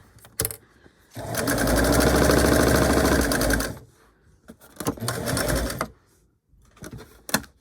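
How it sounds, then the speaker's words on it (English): A sewing machine stitches a seam on a concha blanket in a loud, close, rapid mechanical chatter lasting a few seconds, followed by shorter stop-start bursts and clicks from the machine. "feed it through and clamp it down. Adjust the pressure foot as needed."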